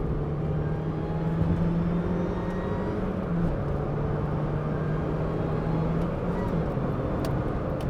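Steady drone of a Mazda MX5 NA6 engine idling roughly, a continuous low hum with a faint whine riding on top, constant in level and heard up close with no one speaking.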